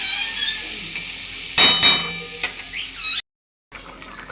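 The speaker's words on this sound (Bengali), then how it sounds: "ওর মধ্যে এখন পটল আলুটা ভালো করে কষে নিচ্ছি নুন দিয়ে" Potatoes and pointed gourd sautéing with salt in a pan, a soft sizzle broken by a couple of loud spatula scrapes and clinks, then a brief cut to silence before the frying resumes.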